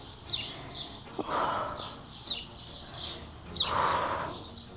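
Birds chirp outdoors at a place full of birds and insects, short bright calls repeating irregularly at moderate distance, with a couple of louder rustling bursts between them and no speech.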